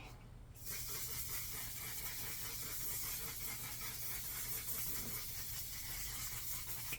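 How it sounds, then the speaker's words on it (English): Until Dawn mattifying waterproof setting spray mists from its bottle in one continuous, even hiss that lasts about six seconds, heard close up with no talk over it. "what is this called? Until Dawn Mattifying Waterproof Setting Spray."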